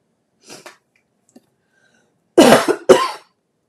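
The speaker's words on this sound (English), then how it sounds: "that's a terrible, awful cough" A faint cough early, then two loud, close, harsh coughs in quick succession, with silence between.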